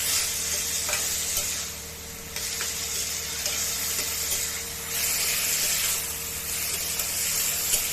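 Banana flower, boiled beforehand with salt and turmeric, being sautéed with spices in a pan: a steady, loud sizzle with bright hiss that swells and dips as it is stirred, with no talking.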